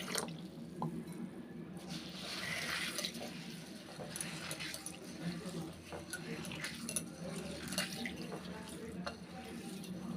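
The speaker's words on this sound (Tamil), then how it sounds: "இப்போ தண்ணி ஊற்றிட்டு நல்லா அலசிக்கிறலாம்." Green gram being rinsed by hand in water in a home kitchen, giving a steady close sloshing and dripping with small splashes throughout, no talk over it.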